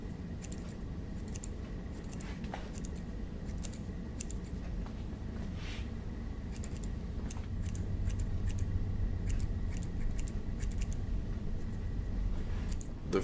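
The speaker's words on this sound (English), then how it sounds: "So what we're going to do is take a scissors and just trim this down a little bit." Scissors trim something in short repeated snips, some in quick clusters, close to the microphone over a quiet background hum, with no talking.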